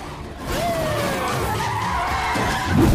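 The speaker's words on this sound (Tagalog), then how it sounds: "ginulo nito ang traffic lights at nagbanggahan ang lahat ng sasakyan" Car tires squeal in a long skid, with a high gliding screech over a roaring engine, loud and close, ending in a harsher burst that fits vehicles colliding at a traffic intersection.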